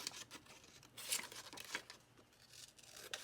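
Scissors trimming paper for a handmade art journal, close, quiet snips and papery tearing and rustling sounds in an irregular series, with no talk.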